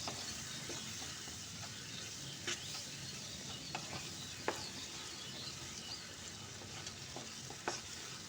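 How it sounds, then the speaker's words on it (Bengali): Ground mustard paste mixed with spices in a hot pan for a mustard rohu curry, a quiet even sizzle with a few sparse spatula scrapes, faint and steady, with no one talking. "তো সরষেটা দিয়ে আমি খুব মশলার সঙ্গে ভালো করে মিশিয়ে নেব।"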